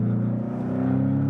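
Steady engine and exhaust drone from a Porsche 718 Cayman with its 2.0-litre turbo flat-four, a strong low hum holding even throttle, close and loud throughout with no voices.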